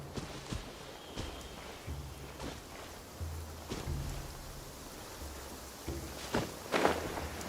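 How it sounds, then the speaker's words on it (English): Rain falls in the Genshin Impact game world, a faint, steady hiss with soft footsteps and a few light thuds over quiet, low game sounds. "And it's starting to rain."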